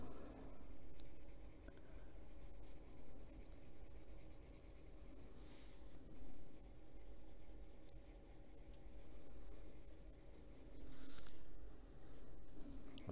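Colored pencil strokes rub across paper in an adult coloring book, a soft, continuous scratchy scribble that rises and falls in short bursts, close and quiet with no talk.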